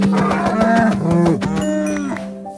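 A cow mooing in the Minecraft video game, a long drawn-out harmonic low that bends in pitch, repeated twice close up with no talk over it.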